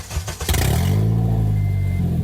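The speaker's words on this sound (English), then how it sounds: "that's how a car sounds without its catalytic converter" A Honda Element running without its catalytic converter starts with rough clattering bursts, then settles into a loud, low, raspy engine drone that holds steady close by.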